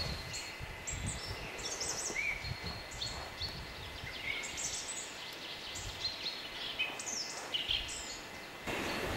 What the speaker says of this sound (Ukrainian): Весь ліс дзвенить від співу птахів. Звідусіль чути голоси великих синиць.